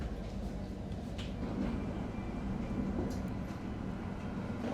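A hybrid tram runs through a Belgian town, giving a steady low rumble of wheels on rail with faint squeals and rattles, heard from on board at moderate level.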